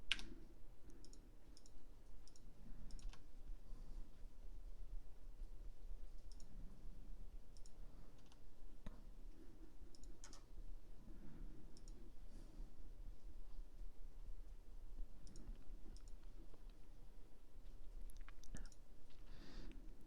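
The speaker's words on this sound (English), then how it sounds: "I'm typing out." Keys on a computer keyboard click in light, irregular bursts of taps, faint and fairly close, across a long stretch without talk.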